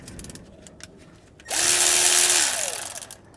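A socket wrench loosens an oil pan bolt on a GM Ecotec 1.4L: a few faint clicks, then a loud, close, steady whirring burst lasting about a second and a half before it tapers off.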